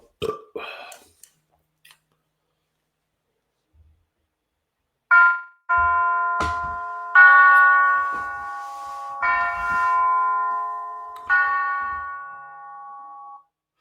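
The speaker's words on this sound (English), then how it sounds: "that's a church bell" A few deep, sustained bell tones ring out one after another, each humming and decaying slowly, with brief scattered noises before them.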